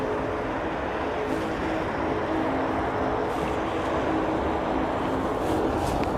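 A jet airliner with LEAP engines arrives at Heathrow runway 27R in wet, windy weather, its engine roar a loud, steady, unbroken broadband drone lasting throughout, with no voices.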